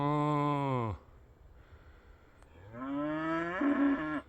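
Cattle lowing from behind a field fence, two long, loud moos close by separated by a quiet pause, the second rising in pitch; a person imitates the moo from nearby.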